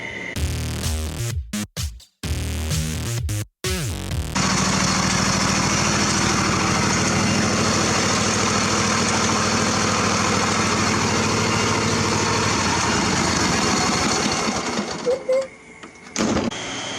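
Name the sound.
John Deere tractor engine idling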